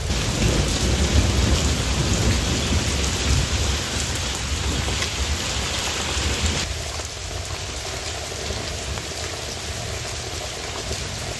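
Heavy mountain rain pours steadily in a thunderstorm, a dense loud roar of drops with rumbling thunder running through it, easing slightly partway through and continuing without any voices.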